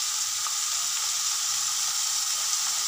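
Chopped green chillies fry in hot oil in a pan, a loud, continuous close-up sizzle with a steady hiss and no talking.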